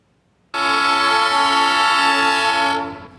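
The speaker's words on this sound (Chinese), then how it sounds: "喇叭响，火车之路开始。" A Copper Canyon tourist train in Mexico sounds its horn in one loud, sustained blast of about two seconds that starts abruptly and fades at the end, close by.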